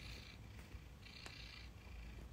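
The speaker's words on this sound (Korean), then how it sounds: "골골송 들리세요?" A cat purrs close by, a soft, steady rumble with a rhythmic breathing pulse, quiet and alone without speech.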